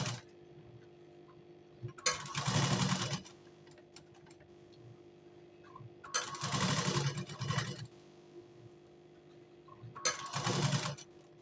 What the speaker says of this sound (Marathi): पहिला आपण कॅनव्हास आणि अस्तरला शिलाई मारून घेणार आहे